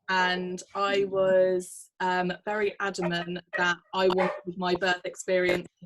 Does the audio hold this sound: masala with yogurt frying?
no